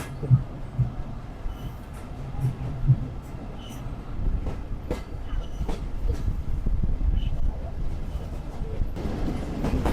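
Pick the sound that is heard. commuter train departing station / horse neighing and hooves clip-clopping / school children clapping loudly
commuter train departing station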